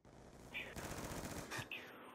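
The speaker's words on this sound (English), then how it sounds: "Oh my god, an LMG." Light machine gun fire rattles in a fast, continuous burst during a Black Ops 2 Hardpoint match, fairly faint and heard beneath a player talking.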